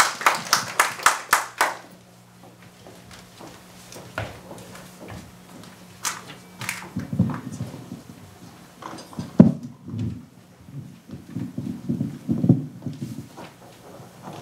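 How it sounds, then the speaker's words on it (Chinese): A seminar audience at a law and religion symposium claps in a brisk burst of applause for a professor for about two seconds, then the room settles into faint shuffling and scattered knocks. "我们也是鼓掌欢迎教授。"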